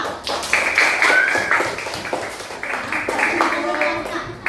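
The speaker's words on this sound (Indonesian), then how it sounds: "tepuk tangan dulu untuk Aska" Children in a classroom clap for a classmate, a busy patter of many small hands close by, with a voice talking over part of it.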